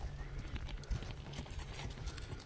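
A horse being shown for sale clip-clops at a walk, its hooves striking in an irregular rhythm, faint and at middle distance over low background rumble, with no speech.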